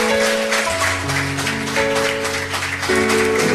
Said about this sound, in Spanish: ¿Cuántos le dan un aplauso bien fuerte al Señor?